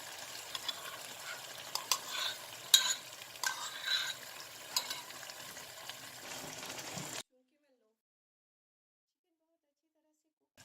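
Chicken with yogurt cooking in a pan gives a faint, uneven crackle and soft stirring for about seven seconds, then stops abruptly into silence.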